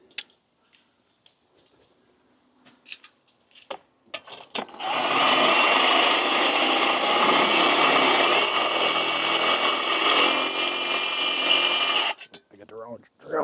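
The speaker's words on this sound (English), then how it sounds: "Then we'll go ahead and drill the top." A power drill bores into an aluminum fence top, running steadily and loudly for about seven seconds after a few scattered clicks and taps, then stopping.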